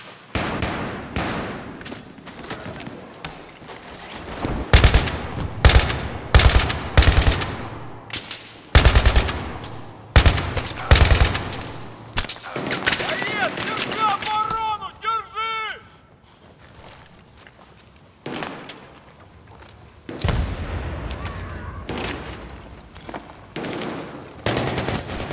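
Gunfire in the Battlefield 3 beta: loud, close bursts of automatic fire in irregular volleys, separated by short lulls with quieter clatter and fainter shots in between.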